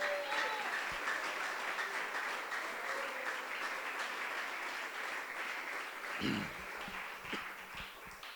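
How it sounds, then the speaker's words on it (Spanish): A church congregation applauding during a sermon, a steady mass of clapping at moderate volume lasting several seconds, with a few voices and thumps near the end. "Denle un aplauso al Señor, hermanos."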